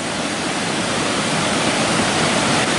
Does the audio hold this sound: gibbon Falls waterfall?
yes